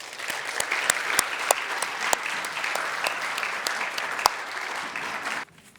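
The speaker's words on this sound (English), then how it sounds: "could you please give a round of applause to bring to the podium" Evening-event audience applauding a university dean's introduction to the podium, a full, steady roar of many hands with sharp individual claps punctuating it, cutting off abruptly near the end.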